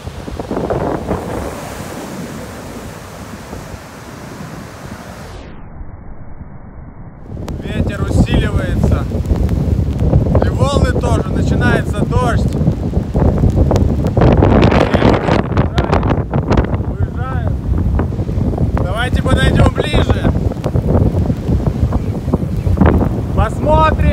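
Strong winds from Hurricane Dorian on the Florida coast roar into the microphone with crashing surf. After a brief quieter lull, the gusts become a loud, relentless buffeting, and voices are partly audible beneath.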